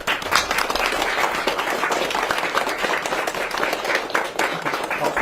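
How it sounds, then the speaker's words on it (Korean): A large audience gives a sustained, dense round of applause as the president enters a formal government event, loud and continuous throughout. "큰 박수 부탁드립니다."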